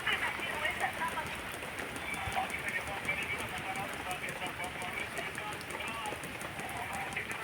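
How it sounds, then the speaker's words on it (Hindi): Heavy rain pours down steadily in Jammu and Kashmir, a dense, continuous hiss of drops drumming on surfaces that swells and eases slightly but never stops, close and loud throughout. "देखिए बारिश कितनी ज़ोर से है।"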